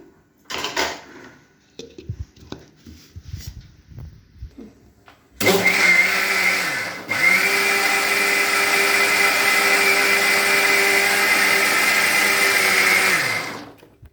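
A few faint clatters, then a blender grinding sugar into powder whirs loudly and steadily for about eight seconds, dips briefly, and stops abruptly.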